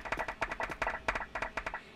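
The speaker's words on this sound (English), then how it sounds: "somebody's clapping, so yeah, round of applause to you all" A small audience at an information seminar claps quietly and a little unevenly for about two seconds. The claps are sparse and distinct rather than a full roar of applause, and no one speaks over them.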